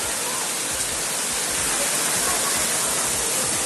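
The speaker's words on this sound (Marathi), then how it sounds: "सिहोरमध्ये मुसळधार पावसामुळे अनेक रस्त्यांना ओढ्याचं स्वरूप प्राप्त झालं" Heavy downpour in Sehore, strong enough to turn streets into streams, heard as a steady, loud, unbroken roar of rain and rushing water with no pauses.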